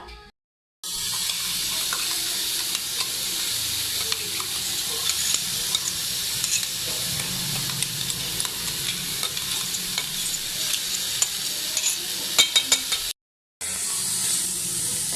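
Ground peas roast in a pan at home with a constant soft sizzle and scraping from a stirring spoon that runs for several seconds, breaks off, then resumes. Nobody talks over it.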